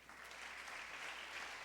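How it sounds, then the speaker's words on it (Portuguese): Church congregation applauding, a steady hiss of many hands clapping heard faint and distant, unbroken for the whole short stretch. "Dá um aplauso aí."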